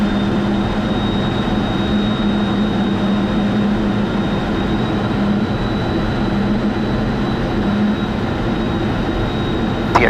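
Dense, loud, steady roar from inside the cockpit of an F-16 Fighting Falcon fighter jet in flight, continuous broadband engine and wind noise with no breaks.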